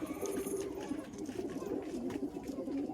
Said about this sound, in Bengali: কত সুন্দর পায়রা